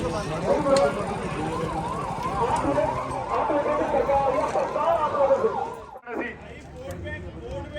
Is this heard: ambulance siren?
yes